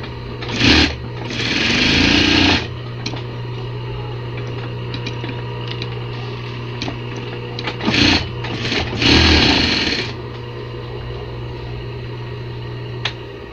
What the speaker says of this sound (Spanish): Ahorita la máquina está trabajando para costura normal.